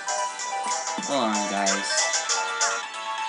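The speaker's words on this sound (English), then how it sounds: "My phone's going off." A mobile phone ringtone plays as a sustained electronic tune beneath a voice, ringing steadily through the whole moment while he talks over it.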